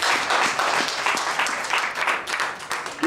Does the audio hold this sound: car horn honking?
no